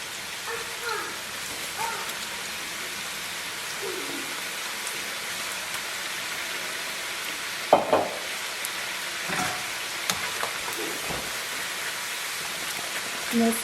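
Sliced plantain frying in oil makes a steady, close sizzle that carries on throughout, with occasional stirring clatters and soft knocks, and no one speaking.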